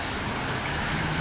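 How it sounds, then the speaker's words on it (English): Steady rain falls outdoors on a rainy day beside a smoking Kamado Joe grill, a dense, even hiss of drops on surfaces, loud and constant with no voices. "It is raining today"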